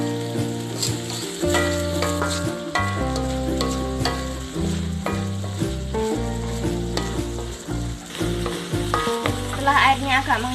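Spiced intestines for Gresik-style martabak usus simmer in water in a pan, a steady sizzle and stirring under loud, continuous tonal music throughout.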